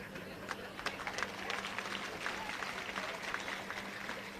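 A hall audience at a motivational speech claps steadily, a dense patter of many hands held at a moderate, even level throughout.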